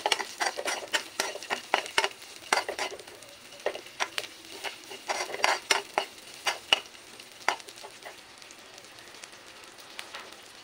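Onions and garlic sauté together in a pan. A soft continuous sizzle runs under a long series of sharp, irregular clicks and scrapes from stirring, and no one speaks.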